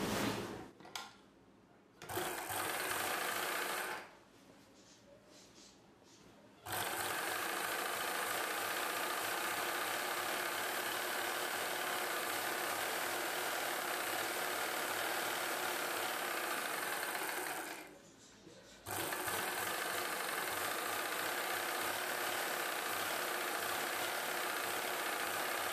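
A sewing machine runs in long continuous bursts while stitching a seam on saree petticoat fabric. It hums steadily for most of the stretch, with a couple of short pauses between runs and no talking.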